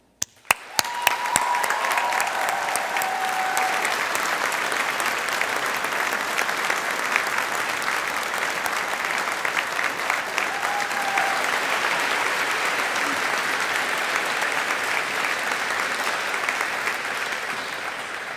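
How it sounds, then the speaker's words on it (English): Sustained applause from a large graduation ceremony audience, a dense continuous wash of clapping that starts with a few isolated claps and holds steady for the whole stretch, with a faint tone briefly sounding beneath it. "that should be no more applause until about the end"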